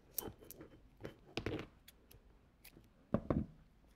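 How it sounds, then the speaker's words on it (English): Scissors trim paper on a DIY votive, giving a scattering of faint, close, crisp snips and clicks in an irregular rhythm against a quiet room. "come back with your scissors and just trim it"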